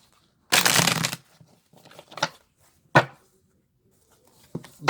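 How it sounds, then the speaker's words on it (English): Tarot cards are shuffled by hand in a quiet room: one long riffling burst, then several shorter rustles and snaps spaced apart, close and fairly loud. "So we'll do a little more shuffling."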